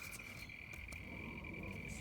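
Faint, continuous high chirping of crickets fills a garden at dusk, a steady unbroken trill with no voices over it.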